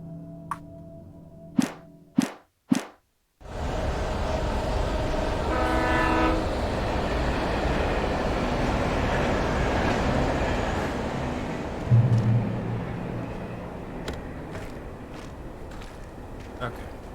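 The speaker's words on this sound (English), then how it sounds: "A train." A train in the video game Alan Wake Remastered: a few short sharp knocks, then a long loud rumbling pass with rhythmic rail clatter and a brief horn-like swell, continuing steadily to the end.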